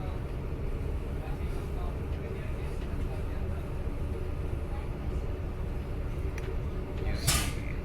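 Steady low rumble fills the interior of a German regional train in motion, a continuous ride noise with a brief brighter hiss or squeal near the end.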